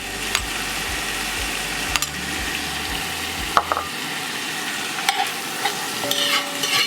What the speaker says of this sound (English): saute this for probably 8 minutes until all these veggies start to simmer down a little bit.